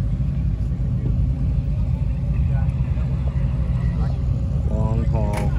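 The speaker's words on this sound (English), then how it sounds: "Tons of cars still coming in." A steady low rumble of many cars rolling into Atlanta Motor Speedway during the Hot Rod Power Tour, engines blending into continuous traffic noise with a few voices talking faintly over it near the end.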